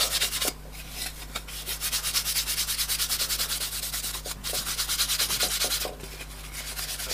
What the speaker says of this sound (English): Give that a good scrub again